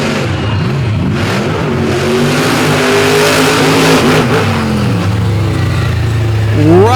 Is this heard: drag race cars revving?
yes